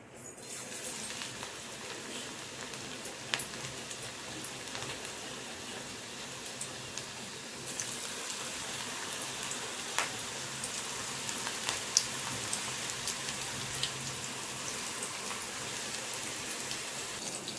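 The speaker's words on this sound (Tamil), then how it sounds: "இதை அப்படியே எண்ணெயில் போட்டு பொரித்து எடுத்துடலாம்." Onion pakoda fritters frying in hot oil, a dense steady sizzle with scattered crackles and pops that grows a little busier partway through and keeps going without any voice.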